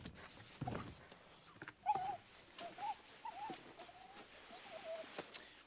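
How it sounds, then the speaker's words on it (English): A dog excitedly barking and whimpering at close range, with a run of high whines and yips over several seconds. "This dog has gone nuts."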